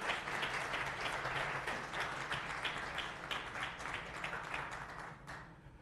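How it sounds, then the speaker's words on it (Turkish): Sustained audience applause fills an award ceremony hall, dense and steady from a large crowd, then thins and fades out near the end. "Alkışlarınız."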